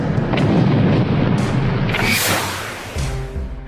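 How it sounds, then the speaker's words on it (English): Heavy booms and rolling blasts of 40mm cannon fire in a WWII North Africa battle, dense and loud, overlapping one another before fading into lower rumbles. "Their 40mm cannons causing havoc, forcing Rommel to retreat south"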